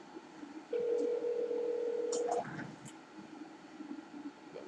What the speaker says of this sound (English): Got my buddy Sam on the phone, hopefully.